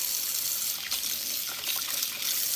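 Cold tap water runs steadily while hair is being rinsed, a continuous close hiss of splashing water filling the whole stretch without pause.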